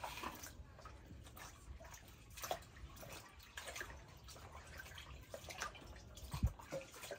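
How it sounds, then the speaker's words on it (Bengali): Chepa shutki, dried fermented fish, is rinsed in water in a village kitchen, with steady sloshing and scattered drips and splashes continuing throughout at moderate, close level. "আমি চাপা শুটকি গেলা ভালো করে ধুয়ে নিছি"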